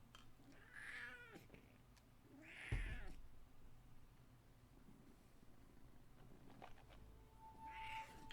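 A cat meows three times indoors, short plaintive calls spaced a few seconds apart, fairly faint against a quiet room hum with a soft thump in between.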